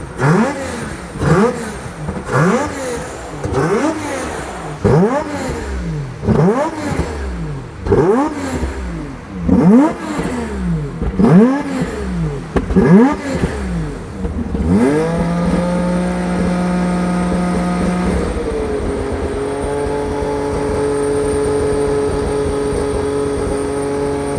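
An FD car engine revs repeatedly in sharp, rhythmic bursts, rising and falling close by, then settles into a steady higher-pitched idle.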